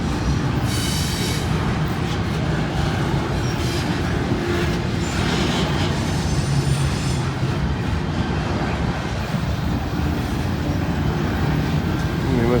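A short freight train pulled by two locomotives rolls steadily past, with a continuous rumble of wheels and rail noise and a faint squeal of wheels on track, loud and close.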